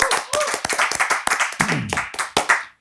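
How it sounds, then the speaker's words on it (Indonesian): Audience clapping at an Indonesian talk show: a burst of close, irregular hand claps with voices mixed in underneath. "Baik. Tepuk tangan."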